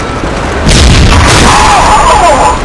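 A grenade exploding in a military video game, a loud close boom that rolls into a dense, rumbling blast filling the sound.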